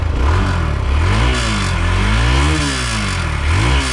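A Hero XPulse motorcycle engine revved hard and held high, loud and close, with the pitch rising and falling through several throttle blips over a constant rough roar.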